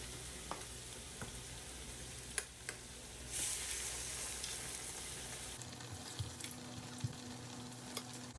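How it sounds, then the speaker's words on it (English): Spoonfuls of black-eyed pea batter for akara fritters sizzle and crackle steadily in hot oil, with occasional clicks and a brief louder hiss midway as more batter goes in. "I am done frying all of my Akara beignet"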